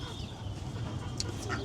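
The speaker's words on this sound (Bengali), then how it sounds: "তো ওই যাচ্ছে গাইস আমাদের হাঁসগুলো।" A few ducks quack faintly at a distance, short soft calls over a low background hum.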